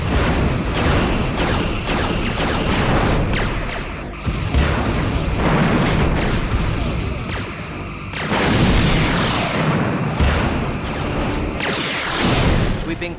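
Torpedoes fire from the forward tubes of a starship in the Star Trek Bridge Commander video game, with repeated loud booming launches and crashes layered over dense, continuous combat noise.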